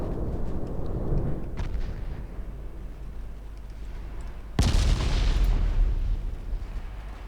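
Destroyer guns fire in the Ultimate Admiral Dreadnoughts naval battle game. Low rumbling battle ambience and a faint distant report give way to a sudden loud cannon blast that rolls into a sustained rumble.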